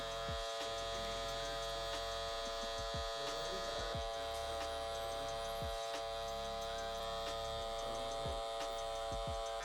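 Electric hair clippers buzz steadily while cutting a taper fade at a barber's chair, a constant humming drone with soft clicks and strokes recurring every second or so, no talking.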